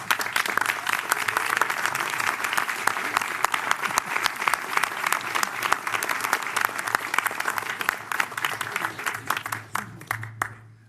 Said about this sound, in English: clap is a little premature